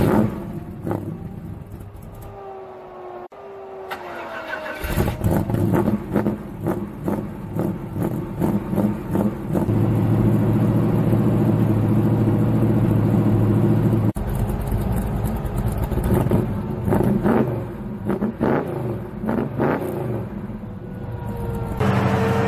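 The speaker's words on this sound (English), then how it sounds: "about to do a cold start on this thing" A 1966 Chevelle Malibu with a 327 V8 and a freshly rebuilt, unadjusted carburetor cranks over, then catches on a cold start and settles into a loud, rough, rising rumble up close, with a few sharp knocks.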